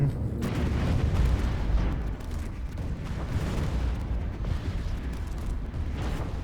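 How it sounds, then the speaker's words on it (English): A tachyon weapons barrage tears into an enemy fleet in the space strategy game Stellaris, a dense, continuous rumble of booming blasts and crackling impacts that stays loud throughout. "my main weapons can fire on their fleet directly"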